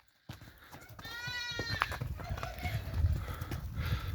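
Draft horses from the Ternopil region of Ukraine walking on an early-morning outing, their hooves clopping in an irregular rhythm close by, with background noise and animal sounds.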